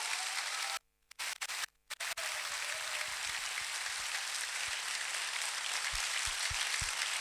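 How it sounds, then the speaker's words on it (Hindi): Sustained, dense clapping from an audience fills the room after a speech on leadership, briefly cut out twice near the start, then continuing steadily with a few low thumps toward the end. "हम चाहेंगे जोरदार तालियां उनके लिए होनी चाहिए, जोरदार तालियां होनी चाहिए सर के लिए।"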